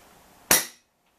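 A Falcon Prairie BM Light-hunter air rifle fires a single sharp, loud crack during a power test, with a quick decay into silence.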